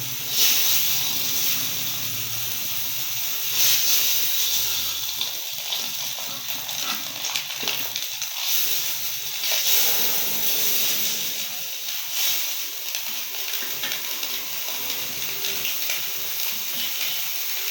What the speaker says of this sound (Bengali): ডিমটা ভাজবো ডিমটা দিয়ে দিলাম চুলার উপরে কড়াইতে দিয়ে দিলাম